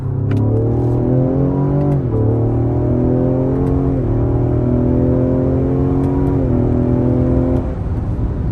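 A tuned Ford Explorer ST on a box-tune flash pulls hard in a roll from 30 mph, the engine note climbing steadily through gears with brief dips at each shift, loud and close throughout with no talk.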